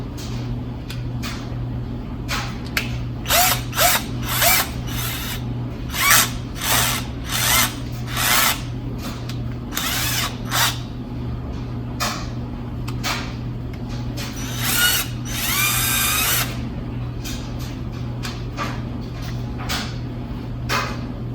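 A Juemel 20V MAX cordless drill/driver running in short bursts, whirring on and off repeatedly at varying lengths, close up, over a steady low hum, with one longer run near the end.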